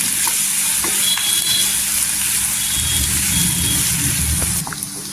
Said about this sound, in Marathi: कांदा असा मौसूत करायचा आणि गोल्डन कलर करून घ्यायचा